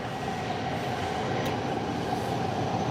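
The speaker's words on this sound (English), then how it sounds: "Just listening to the sound of the train" A steady, loud rumble of a Silver Line metro train running, heard from the last car, with a constant low roar and hiss and a brief faint squeal midway.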